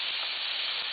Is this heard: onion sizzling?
yes